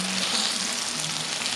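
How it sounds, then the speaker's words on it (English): Rum sizzles loudly in a hot pan, a dense, steady crackling hiss that fills the whole moment. "The rum's gonna sizzle like this."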